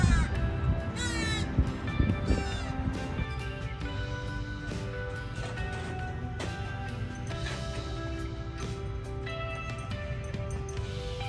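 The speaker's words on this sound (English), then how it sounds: "Hey, even the crow is crowing about it." A crow caws repeatedly in harsh, rhythmic calls outside a thrift shop, fairly close and loud over steady background hum.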